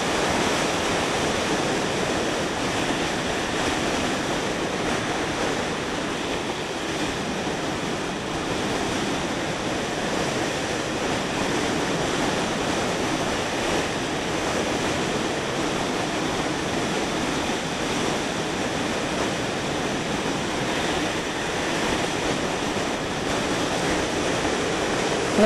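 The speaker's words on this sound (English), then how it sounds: "it's still pretty damn gusty" Gusty wind buffeting a microphone while driving through canyons near San Antonio, a loud, steady broadband roar that barely changes throughout.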